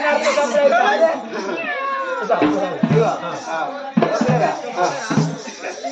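A voice imitates a cat's meowing in drawn-out, wavering cries over a busy background of chatter and clatter.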